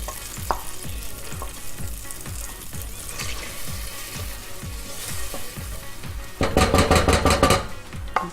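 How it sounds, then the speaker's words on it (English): Onion frying in foaming butter in a pan: a steady, close sizzle runs throughout, with soft utensil taps, then a louder burst of stirring and clattering near the end. "And when that butter starts to foam, let's turn the heat up a tiny bit. We'll add the onion and let it slowly cook for about 10 minutes."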